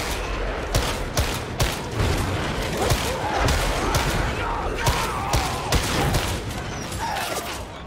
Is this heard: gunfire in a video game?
yes